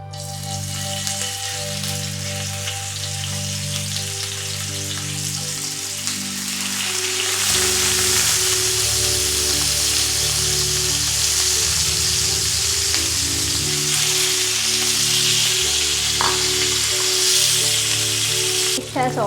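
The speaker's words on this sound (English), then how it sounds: "It has almost got fried. I have turned it and fried both sides." Barramundi fillets marinated in salt and turmeric fry in a pan with a steady, close, loud sizzle that swells partway through, crackling like rain, with low hum beneath and no talking.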